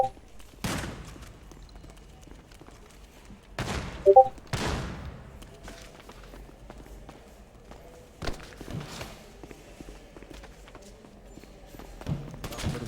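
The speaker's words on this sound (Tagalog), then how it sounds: "Kada putok ng shotgun, ang dami tinatamaan." Several sharp, heavy shotgun blasts during a bank heist in a roleplay video game, at irregular intervals, separated by quieter stretches of low background rumble and faint movement.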